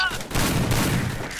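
Gunfire rattles in a shooting video game, a dense burst of rapid shots that fills the whole moment.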